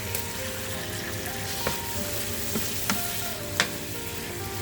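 Curry with mango cooking in a pot, a steady close bubbling sizzle with a few sharp spoon clicks scattered through.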